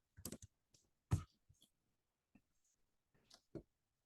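Short bursts of crisp keyboard clicks as someone types on a computer keyboard, close and quiet, with brief pauses between groups of keystrokes and no talking.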